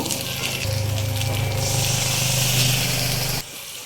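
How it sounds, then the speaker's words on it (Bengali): Water poured into a pan of frying spice paste for potato curry gives a loud, steady rushing hiss up close that cuts off abruptly near the end, with no voices. "এই যে মশলাটা ভাজা হয়ে গেছে এখন আমি একটু পানি দিয়ে দিব"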